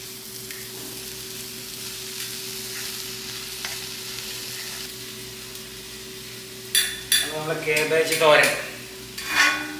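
Shredded cabbage for thoran frying in a pan under a steady low hum, with faint scraping at first and then louder, busier stirring and clatter toward the end, close by and without speech.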